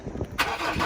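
At a campground in Yuraygir National Park, New South Wales, a car engine catches and starts abruptly. A quiet moment comes first, then a sudden cranking burst settles into a close idle.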